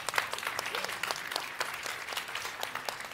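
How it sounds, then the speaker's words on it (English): An audience at a Mercedes-Benz CES 2024 press conference claps steadily for a few seconds, a moderate crowd of scattered claps heard from a short distance. "A big round of applause for Marcus Schaefer."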